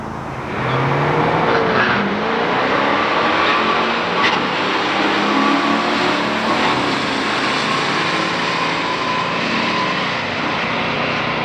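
A 1978 Chevrolet Camaro Z28 and a 1970 Plymouth GTX, both factory stock, drag race down a strip, their engines roaring steadily and loudly throughout with no talking.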